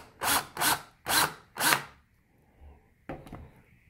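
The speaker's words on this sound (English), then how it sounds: "7/32 inch DeWalt speed tip mounted on my drill." A DeWalt drill fitted with a 7/32 inch speed tip bores into an Atari 5200 Trakball controller, four loud, evenly spaced drilling bursts followed by quiet and a brief scrape near the end.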